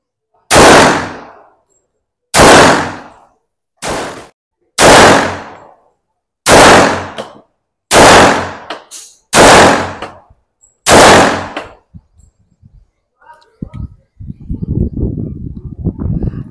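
A Turkish-made Ottoman 1911 pistol from Balistik Defence fires eight loud, sharp shots at roughly even intervals during test firing, each with a short ringing tail, followed by a few faint knocks and rustling handling noise.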